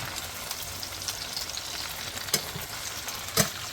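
Home-canned okra frying in a pan, a steady close hiss and crackle of hot oil with a couple of brief sharper pops.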